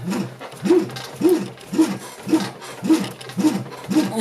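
The shaft of a Revolt RV-100Em outrunner motor is turned by hand, giving a rhythmic series of about eight soft whooshing, grinding swells roughly every half second, close and moderately loud.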